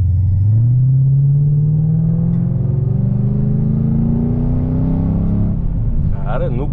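A Mercedes-Benz C63 AMG sedan with a 6.2 V8 tuned to stage 2 accelerates under moderate throttle, its deep, loud engine rumble rising steadily in pitch over several seconds, heard from close by.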